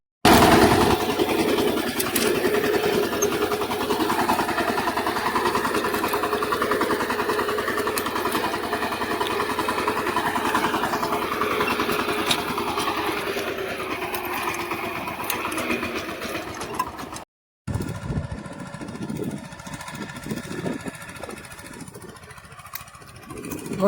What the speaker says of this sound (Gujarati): મોટા ભાઈ ટ્રેક્ટર હાંકી રહ્યા છે